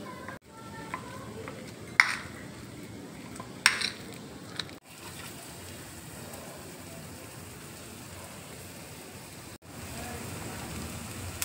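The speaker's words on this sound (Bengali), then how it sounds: "এবার দেখো সব একসাথে আমি মেখে নিচ্ছি।" Chaat ingredients for sama chaler tikkiya, with chilli flakes and tamarind chutney, being mixed together by hand in a bowl: a soft, continuous squelching and rustling with a couple of sharp clicks early on, close and fairly quiet.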